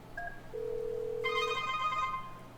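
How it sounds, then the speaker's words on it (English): A Yealink T58A desk phone places a call to a Grandstream WP820 WiFi handset, giving a short tone, a sustained steady beep, then a brighter electronic ringback tone, clear and close with no talking. "I'm going to dial from this phone over to"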